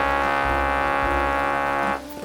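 Flies buzzing close by in hot, wet-season Bali around chickens, a dense continuous drone that drops off abruptly near the end.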